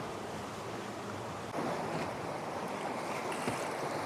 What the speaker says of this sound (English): Gentle waves, white caps, 15 to 20 knots of wind